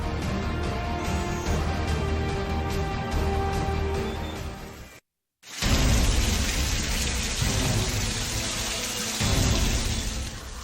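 Heavy monsoon downpour during a severe rain spell, a dense steady roar of falling water with low rumbling; a brief dropout midway, then the wash returns louder and fuller.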